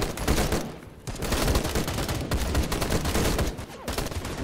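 Battle gunfire in the video game Call to Arms: dense, continuous bursts of rifle and machine-gun fire crackle loudly throughout, with brief dips between volleys and no clear talk.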